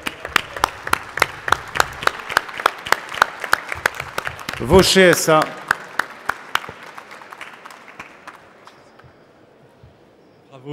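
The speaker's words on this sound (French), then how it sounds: "On peut applaudir." An audience applauds at an export trophy ceremony for eco-businesses at the Pollutec trade fair, with steady, rhythmic clapping from a crowd. Beneath it, a voice speaks over a loudspeaker, and a louder burst comes near the middle before the applause thins and fades out.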